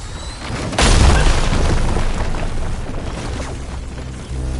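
A hostile machine in Horizon Forbidden West lets off a loud booming blast, a sharp burst followed by a long rumbling roar that stays heavy for several seconds before a second surge near the end.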